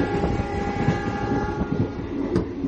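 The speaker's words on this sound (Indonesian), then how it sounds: "masih terdengar loh sampai sini" A rumbling train rolls along with a steady mechanical drone, heard from inside a business-class passenger car, and a sustained locomotive horn tone hums faintly through the noise.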